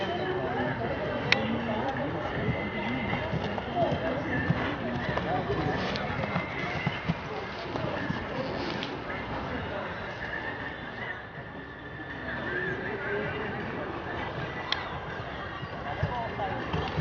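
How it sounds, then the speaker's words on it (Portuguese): A show-jumping horse whinnies, kicks and shifts about agitatedly while people talk nearby at a jumping competition, with steady outdoor background noise throughout. "Esse cavalo tá agitado, ele tá dando coicinho."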